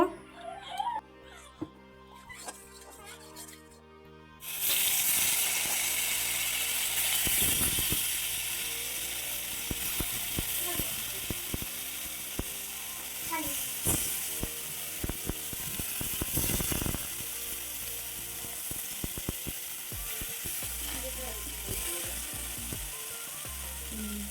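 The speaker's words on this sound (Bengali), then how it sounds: "একদম কম তেলের মধ্যে হালকা হালকা আমি ভাজা করে নেব" Small mourala fish fry lightly in a little oil, starting with a sudden rush of sizzle after a few quieter seconds. The steady hiss carries on close by, broken by scattered clinks and scrapes of a utensil.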